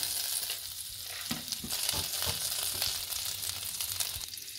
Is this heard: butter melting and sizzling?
yes